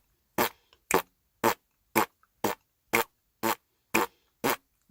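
A didgeridoo played in double time with circular breathing gives ten short, evenly spaced bursts about half a second apart. The sharp spitty pulses are close and loud, with silence between them and no voices.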